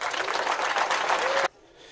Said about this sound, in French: je vous demande de vous lever et de faire un applaudissement digne de son rang à M. Adama Kamara